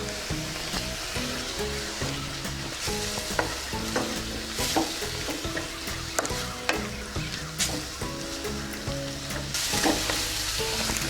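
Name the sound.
onions frying with ginger garlic paste being stirred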